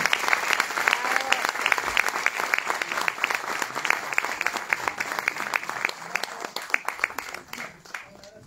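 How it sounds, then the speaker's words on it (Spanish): An audience in a concert hall applauds a violinist with sustained, lively clapping, dense and close, with sharp individual claps cutting through and the ovation tapering near the end. "aplauso a Pablo Velote"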